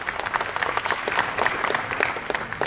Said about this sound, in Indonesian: Tepuk tangan untuk Batik Trusmi.